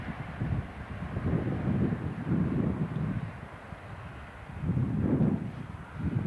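Wind gusting at the Dachau site on a cold Friday, a low rumbling buffet against the microphone that surges in waves, strongest around the middle and near the end, with no talk.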